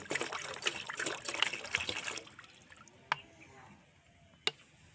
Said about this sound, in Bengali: একটি বালতি নিয়ে নিয়েছি নিয়ে তার মধ্যে এক লিটার মতো মেপে জল দিয়ে দিচ্ছি